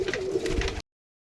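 A pair of large pigeons being shown for sale gives a short, close, low cooing call lasting under a second, and then the sound cuts off abruptly.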